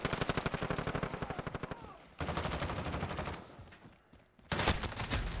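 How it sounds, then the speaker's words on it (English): Video game gunfire: rapid automatic bursts of shots in a console shooter, several bursts separated by short pauses, fairly quiet with faint voices between them. "I'm taking fire."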